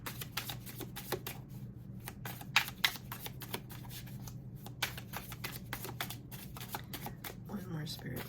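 Tarot cards shuffled from the deck in quick riffling bursts and crisp snaps, close and fairly loud, over a low steady room hum.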